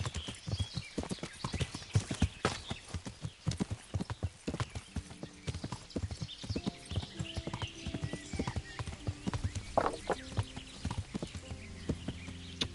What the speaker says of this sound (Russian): Лошадь блуждает в пеньках моя.